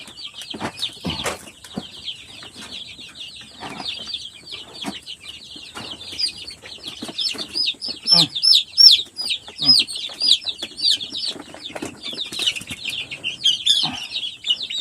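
A flock of young hens and roosters clucking and chattering continuously nearby, with busy overlapping calls and occasional rustling, alone without talk.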